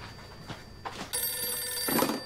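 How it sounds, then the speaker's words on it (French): A telephone rings in an apartment sitcom scene, its bright electronic trill starting abruptly and sounding steadily and close for about a second, with no talk over it. "Un téléphone? Ouais, pis? Réponds."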